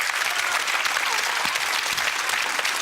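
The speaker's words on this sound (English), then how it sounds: "Round of applause again." A studio audience at a UK game show claps in a dense, steady round of applause, loud and continuous with no voices over it.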